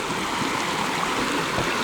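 The Mitta Mitta River flows with a steady broadband rush of clear water below a campground, constant and even with no voices over it.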